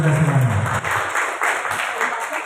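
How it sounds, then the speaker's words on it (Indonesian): An audience at a notary association inauguration ceremony breaks into sustained, even applause in a hall, with a voice briefly heard at the very start. "Tepuk tangan untuk kita semuanya."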